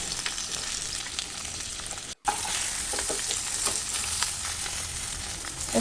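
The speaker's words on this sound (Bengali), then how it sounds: "মাছগুলো উল্টিয়ে দিচ্ছি। মাছগুলো ভাজা হয়ে গেছে।" Koi fish sizzle steadily as they fry in oil in a pan, a loud continuous crackle broken by a brief pause where the fish are turned over, then resuming with sharp spatters.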